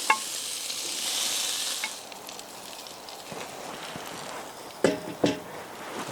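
Marinated chicken legs on a Weber kettle grill hiss and sizzle as leftover marinade is poured over them, a steady close crackle with a few sharper clanks from tools near the end.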